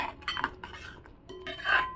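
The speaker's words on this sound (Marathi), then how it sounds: "मसाला टाकून आहे ना आपण छान असं ह्याच्यामध्ये मिक्स करून घेऊया खिमा." A spoon mixing spiced matar kheema (minced meat with peas) in a pan, giving a few close metallic scrapes and clinks against the pan over about two seconds, with no talk.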